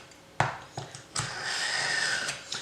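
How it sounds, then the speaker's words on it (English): A gut knife blade is drawn through a sharpener, giving a few short scraping grinds followed by a longer rasping pull, close and fairly quiet. "As you can hear, it's grinding slightly."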